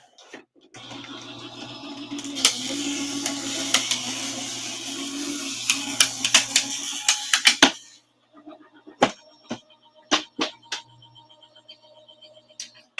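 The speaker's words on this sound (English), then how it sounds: "I don't want it to shift when it runs through the electronic machine" An electronic die-cutting machine feeds a card piece through, giving a steady mechanical whirring hum with rapid clicks for several seconds, then stopping, followed by scattered sharp taps and knocks nearby.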